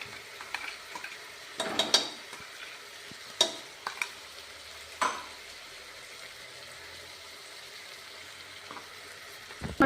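Ground masala frying in a pan for masala bath, sizzling softly while a spoon stirs and scrapes the pan in several sharp bursts, close up, with no voices.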